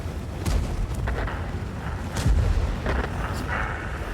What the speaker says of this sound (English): Yak Panzer E100 was shooting at the T49.